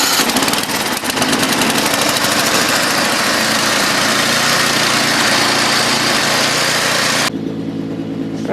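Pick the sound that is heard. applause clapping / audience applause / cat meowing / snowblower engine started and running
snowblower engine started and running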